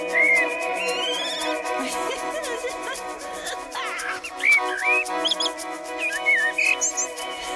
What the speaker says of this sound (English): She has all those little bird sounds, and she's singing with them.